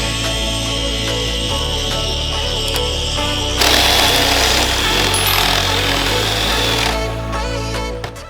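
A power drill bores out welded steel tabs for light mounting bolts on a rally Supra, a loud, close, continuous grinding whine with a steady rhythmic chatter that intensifies midway and eases near the end, with no talking.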